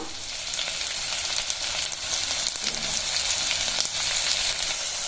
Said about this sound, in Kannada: ಸೊ ಎಣ್ಣೆ ಕಾದ್ಮೇಲೆ ಇದಕ್ಕೆ ಜೀರಿಗೆ ಹಾಕೋತಿದ್ದೀನಿ